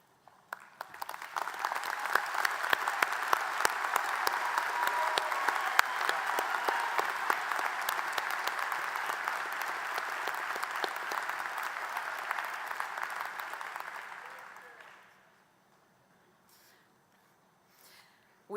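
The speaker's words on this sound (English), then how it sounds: "Would each of you please stand so we can applaud your accomplishments?" An audience at a College of Nursing and Health Professions commencement applauds graduates, with dense, sustained clapping from a large hall crowd that builds quickly, holds for about twelve seconds, then dies away.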